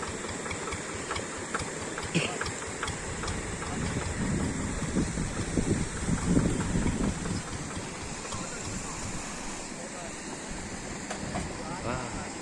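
A tractor engine runs steadily as the machine moves onto rough, rocky farmland, rumbling at a moderate distance under wind buffeting the microphone, with people talking over it.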